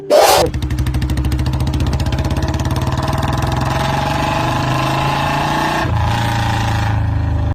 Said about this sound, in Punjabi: ਸੋ ਬੁਲਟ ਦੀ ਡੁਗਡੁਗ ਪੁਲਿਸ ਦੇ ਕੰਨਾਂ ਦੇ ਵਿੱਚ ਸਕੂਨ ਦੇਣ ਲੱਗ ਪਈ